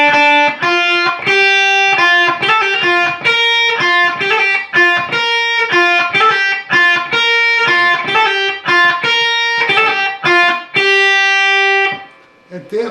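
An electric guitar plays the lick, a continuous run of clear sustained notes with a slight distorted edge, loud and alone, the final note ringing out before it fades.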